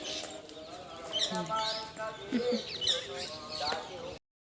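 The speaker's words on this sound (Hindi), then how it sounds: "आप लोग आवाज़ें सुनो, पक्षियों की आवाज़ें कितनी अच्छी लगती है ना।" Birds chirp and call in short, high bursts on a morning outside a home, mixed with a busy background of other small calls and faint rustle, fairly close and fairly quiet throughout.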